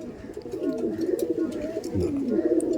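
Pakistani teddy pigeons coo steadily in low, rolling bursts that repeat without a break, close and moderately loud, with a few faint higher chirps from other birds in the background.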